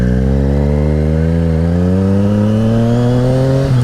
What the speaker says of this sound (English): I'm going to go about 20 miles an hour and then slam on the rear brake